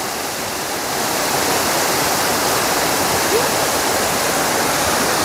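Top of a waterfall in a monsoon forest, water rushing over the edge in a loud, steady broadband roar close by, continuous and unbroken.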